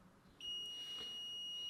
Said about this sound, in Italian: È suonato un allarme sul Bluetti,